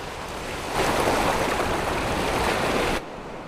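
Strong wind and surf roar across a deserted beach in Cape Arid National Park, a steady broadband wash that swells louder after the first second and then cuts off abruptly near the end.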